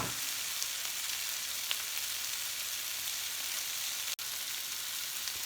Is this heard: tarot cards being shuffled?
no